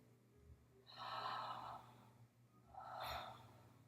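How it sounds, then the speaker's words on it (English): Slow, deep belly breathing practised during a voice exercise: two long, airy breaths a couple of seconds apart, close and fairly loud over a quiet room hum, with no talking. "You want your stomach to expand when you breathe in, and then go in when you breathe out."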